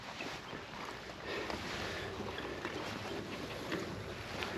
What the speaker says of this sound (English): let's get the hose over here and hose those down